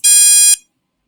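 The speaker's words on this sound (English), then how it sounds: "and there's the buzzer" Electronic buzzer in a microcontroller circuit sounds one loud, steady, shrill tone for about half a second, then cuts off into silence.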